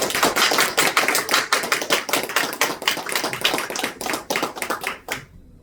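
Welcoming applause from a church congregation during a sermon, a fairly small group clapping loudly and steadily for about five seconds before stopping abruptly.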